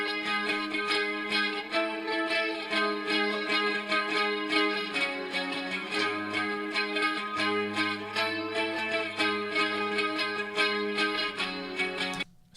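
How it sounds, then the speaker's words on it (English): Clean electric guitars strum simple root notes, panned left and right, in a sloppy, loud and dense beat-style music mix with steady layered chords and a low bass drone, no voices. "they're clean guitars. They're just playing the root notes, strumming."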